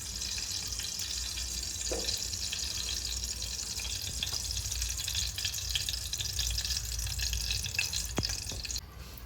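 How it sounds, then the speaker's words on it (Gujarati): Mustard seeds tempering in hot oil for an onion curry, a steady close crackling sizzle with scattered sharp pops that continues unbroken. "આપણે એની તેલમાં વઘાર કરી નાખવી તો તેલ તો ગરમ હશે એટલે રાઈ આવતા કંઈ વાર લાગશે નહીં"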